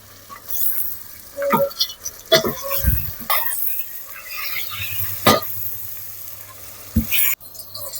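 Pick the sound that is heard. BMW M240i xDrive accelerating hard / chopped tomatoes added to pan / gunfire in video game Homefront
chopped tomatoes added to pan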